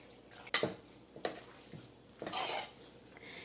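Coconut milk being stirred into kanji in a pot, with a few faint scraping clinks of a spoon against the pot and a soft swishing stir, quiet and close.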